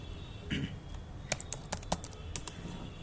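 Fingers type on a computer keyboard while entering data into an Excel sheet, producing a scattered run of crisp key clicks at an irregular pace. A few keystrokes stand out louder against a quiet background.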